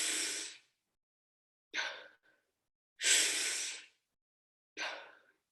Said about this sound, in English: So we're gonna inhale actively and exhale passively.